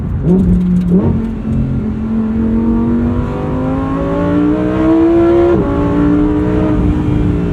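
A mid-engine Lamborghini engine revs steadily upward, its pitch climbing in a sustained, loud roar with a brief dip and a final surge near the end.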